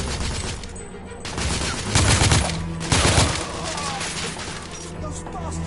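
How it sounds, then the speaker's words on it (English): Heavy gunfire from a firefight in The Order 1886, with bursts of shots and crashing impacts peaking around the middle, loud and dense throughout, with a voice briefly audible amid the shooting. "Reloading. I'm under heavy fire."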